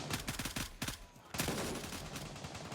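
Distant, faint bursts of gunfire crackle in the Gray Zone Warfare video game, with a quick cluster of shots early and a louder sustained burst later over ambient game noise.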